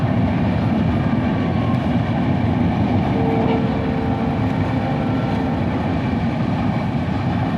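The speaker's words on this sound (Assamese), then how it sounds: "ট্ৰেন চলে গেল" A train rumbles past close by, a steady loud roar of wheels and carriages with a faint whistle-like tone, no voices.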